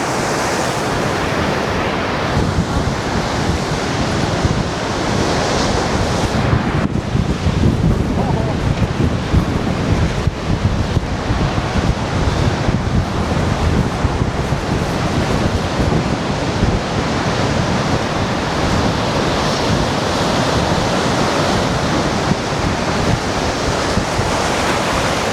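Massive sea waves crash and surge against the shore at Benidorm under strong storm winds, a continuous loud roar of surf with wind buffeting the microphone throughout.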